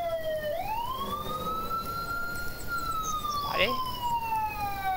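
Police car sirens in the video game Thief Simulator wail in long rising and falling sweeps, loud and continuous, while someone speaks briefly over them and a short sharp effect pops near the end.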